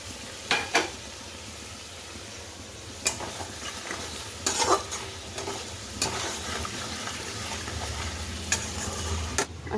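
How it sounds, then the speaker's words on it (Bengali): Half-fried potatoes sizzle in oil tempered with nigella seeds as cumin powder, Kashmiri chili, turmeric and salt go in, a soft continuous frying hiss broken by several sharp scrapes and stirs of a utensil against the pan. "এখানে কালো জিরে ফোড়ন দিয়ে আলুটা অর্ধেক ভাজা হয়ে গেছে। এবার একটু মশলা দিয়ে দিচ্ছি"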